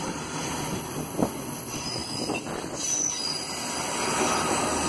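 A train at Bristol Temple Meads station, probably a class 158 service bound for Portsmouth Harbour, rumbles past close by with high, sustained wheel squeals and clicking over the rails, and no talk.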